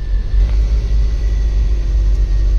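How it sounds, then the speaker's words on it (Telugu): A Tata Intra pickup idles steadily just after starting, a low, even engine rumble close by, running alone without talk. "సో కార్ స్టార్ట్ అవ్వగానే చాలా స్మూత్ గా అయితే స్టార్ట్ అయింది"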